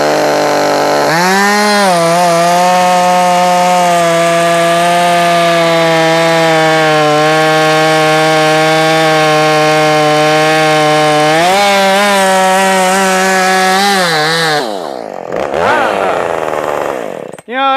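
A ported Husqvarna 450 Rancher chainsaw revs high and holds a loud, steady buzzing whine for many seconds, dips briefly and climbs again, then drops off sharply near the end.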